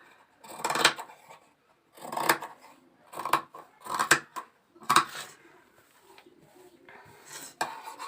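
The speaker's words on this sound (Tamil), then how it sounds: "கட் பண்ணி எடுத்துடலாம்." Scissors cut through blouse sleeve fabric on a tailoring table, making repeated close, rasping snips in an irregular rhythm, about seven cuts across the stretch with short quiet gaps between.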